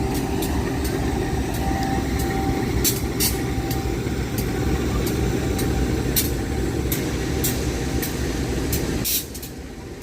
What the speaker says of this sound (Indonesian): Nah ini salah satu lokomotifnya dari 8 lokomotif yang biasanya langsir di stasiun Lempuyangan